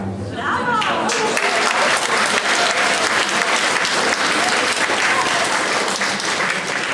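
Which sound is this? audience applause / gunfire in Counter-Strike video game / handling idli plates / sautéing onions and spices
audience applause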